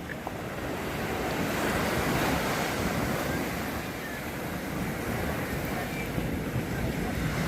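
Ocean waves wash in a steady, broad roar of surf near a reef, with gusty wind buffeting the microphone and no clear breaks between swells.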